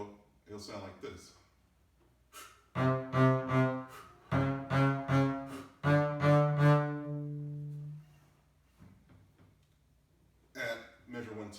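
A double bass plays a symphony excerpt in tempo as a series of distinct, resonant low notes in an uneven rhythm, including one longer held note, then a pause and a few more notes, fairly quiet overall.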